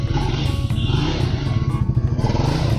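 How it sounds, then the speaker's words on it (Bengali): Triumph Speed 400 motorcycle, a new bike at a showroom, with a steady deep exhaust rumble running close and loud throughout, slightly pulsing, alone without talk. "এক্সস্টের সাউন্ড কিন্তু তোমরা শুনতে পাচ্ছ বাইকের"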